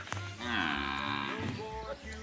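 A buffalo gives a long, deep lowing call, close by and drawn out, over a low steady background rumble, at a village farm in the Rajasthan border area.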